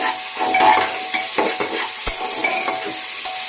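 Carrot, potato and capsicum fry in a pan, a soft sizzle under repeated stirring scrapes and clinks from a utensil, one sharp knock near the middle, nobody speaking.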